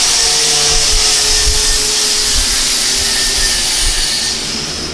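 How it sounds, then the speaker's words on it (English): Angle grinder working a small steel kickstand for a rat rod Honda CRF50 pit bike, a steady loud high-pitched whine with hissing grit that holds for several seconds before easing slightly at the end. "when he gets done grinding with that, we'll get it put on the back here"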